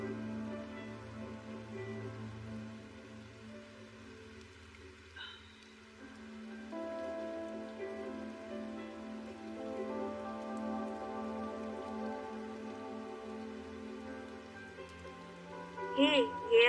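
Rain falling steadily in Tokyo, a continuous soft patter on surfaces with a faint murmur of voices and a brief louder burst near the end.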